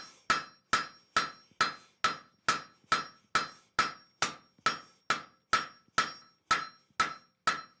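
Steady run of about fifteen sharp, ringing hammer blows, evenly spaced, striking a steel bar on an anvil while a square taper is forged, close and loud with no talk.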